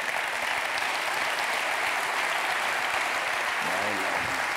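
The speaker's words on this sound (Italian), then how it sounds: "facciamole un applauso." Steady, dense applause from a large audience at a general assembly fills the whole stretch, loud and continuous, with a brief voice surfacing near the end.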